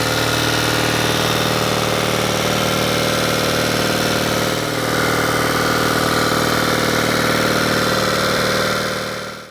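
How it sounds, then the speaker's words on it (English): A vintage engine on a Howard 700 machine idles steadily and loudly close by, a constant mid-low rumble with even mechanical vibration running throughout without any pause. "there will be a bit of footage of the engine running now following"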